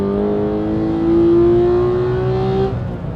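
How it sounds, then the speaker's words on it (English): A 2017 Porsche 911 GT3 with a manual gearbox is driven on a race track, its engine a loud, steady high-pitched drone that climbs slowly in pitch, then eases off near the end. "There was a couple of laps chasing Walter Roll in the new 911 GT3"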